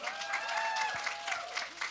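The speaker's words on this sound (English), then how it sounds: "That deserves a bigger clap" An audience applauds steadily at a fashion-week talk in New York, a dense, even wash of many hands clapping with a faint sustained tone running beneath it throughout.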